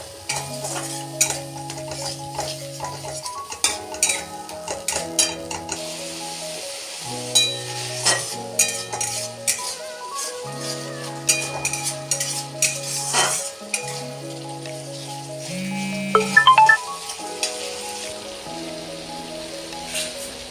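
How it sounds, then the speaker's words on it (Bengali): Tomato being stirred into a frying egg curry masala, with a low sizzle under repeated metal clinks and scrapes of a spoon against the pan, plus steady tonal music throughout. "আমি রেখেছিলাম সেই টমেটোটা দিয়ে দেবো দিয়ে আমি আবারও কিছুক্ষণ নাড়াচাড়া করে নেবো ভালো করে"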